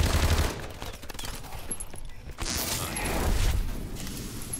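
Automatic turrets fire rapid bursts of gunfire in Call of Duty Exo Zombies, a dense, loud rattle that dips briefly mid-way and then resumes with a heavy low-end rumble.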